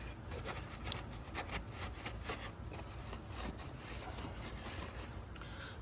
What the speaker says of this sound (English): Got to get all that gunk off that is scrubbed.